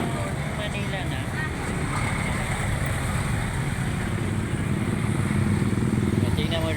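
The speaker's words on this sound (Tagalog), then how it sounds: "Yung mga motor na yan oh." Motorcycles pass along a busy Manila street, their engines buzzing and droning at moderate loudness over steady traffic noise, with a voice faintly heard among them.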